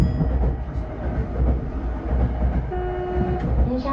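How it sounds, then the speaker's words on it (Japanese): A Tokyo Metro 05 series subway train on the Tozai Line starts moving near Nishi-Funabashi, with a steady low rumble of motors and wheels and a rising electric motor whine, loud and continuous, with no talking. "電車が動きます。"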